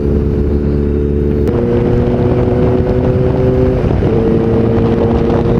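Kawasaki ZX-4RR motorcycle ridden at speed, its steady high-revving engine drone shifting pitch twice as the throttle changes, with constant wind rushing over the microphone.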